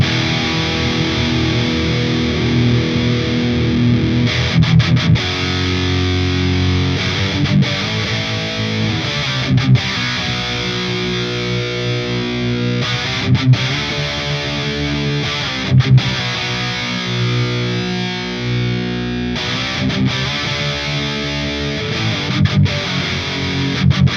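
Electric guitar through a Marshall Valvestate 100V Model 8100 amp plays distorted chords and riffs, loud and continuous with short breaks and string noise between phrases, no talking.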